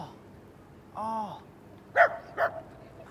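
A dog at a World Cup comedy gig gives a short whine and then two sharp barks, close and moderately loud, over faint room noise.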